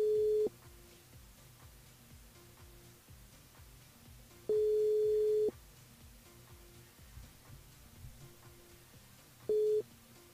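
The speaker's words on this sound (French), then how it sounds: "on appelle Sophia du côté du port" A telephone call tone sounds as three separate steady beeps at irregular gaps, heard over a low buzzing background on a radio broadcast line.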